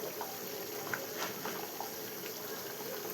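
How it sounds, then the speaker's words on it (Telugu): Pot of rice at a rolling boil, a soft steady bubbling and simmering with small pops and gurgles throughout, fairly quiet and heard alone. "ఇలా ఉడుకుతుంది కదా."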